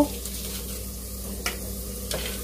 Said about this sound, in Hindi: तेल हमारा अच्छे से गर्म हो गया अब डालेंगे इसमें जीरा और इसी के साथ डालेंगे यहाँ तेज पत्ते दो